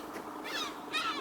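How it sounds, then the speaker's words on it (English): Seagulls call out close by in a short outdoor burst, two harsh, squawking cries in quick succession, heard on their own without talk. "shut up, noisy seagulls"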